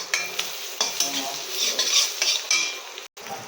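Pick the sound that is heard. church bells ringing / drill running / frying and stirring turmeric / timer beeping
frying and stirring turmeric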